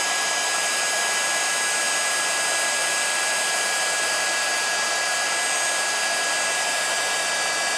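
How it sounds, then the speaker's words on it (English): A heat tool blasts continuously while embossing a stamped card, a loud, close, steady fan roar and airy hiss with a faint high whine, unchanging throughout and without talk. "we're just going to start embossing at the base of the design and just heat up and move round"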